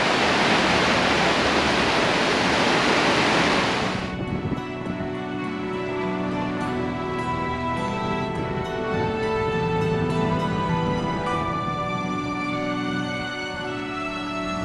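Water from a mountain stream near Munnar pours downhill in a loud, steady rush. The first few seconds sound broad and hissy, then the flow settles into a continuous nearby roar with no voices.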